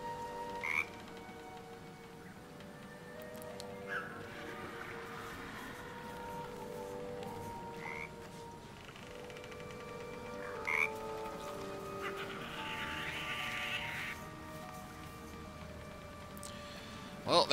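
Frog croaks repeat in bursts in Baldur's Gate 3, standing out clearly over a steady game ambience with a low musical drone beneath.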